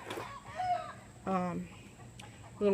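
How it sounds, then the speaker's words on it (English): Chickens cluck and squawk in short, agitated bursts close by while one lays an egg, with quieter gaps of background noise between the calls. "My chickens are going crazy."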